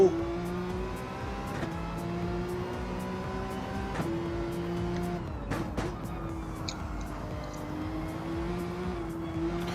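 A Porsche Cup race car in a racing video game snaps into oversteer on a Spanish circuit, its engine droning and shifting pitch steadily with brief tire-scrub bursts along the way.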